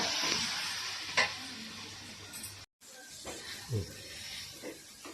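Fish frying on a hot tawa as a roast, a steady close sizzle with crackling bursts and a few sharp pops, a brief dropout midway.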